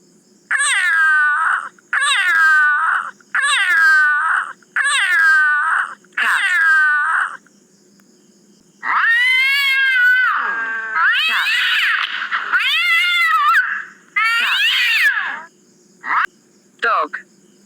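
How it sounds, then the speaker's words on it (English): A cat meows repeatedly, five evenly spaced close meows followed by longer, wavering drawn-out calls and a couple of short final cries, alone against silence. "Cat."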